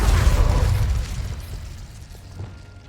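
An Incendio fire spell cast in the Hogwarts Legacy video game gives a burst of fiery whoosh and crackling rumble that is loudest at the start, then fades into a low tail.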